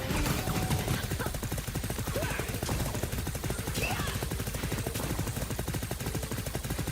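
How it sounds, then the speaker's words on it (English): Rapid machine gun fire in The Knight Witch video game, a dense continuous rattle of shots running steadily throughout, loud and unbroken over game sound effects. "The machine gun"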